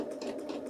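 A sewing machine stitching a band around the armhole of a racerback tank top, a quiet rapid whirring run of stitches, close and steady, with no talking.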